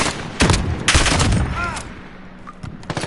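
Olympia shotgun blasts in Call of Duty, several loud sharp booms fired in quick irregular succession with short decaying tails, close and dominant with no talking.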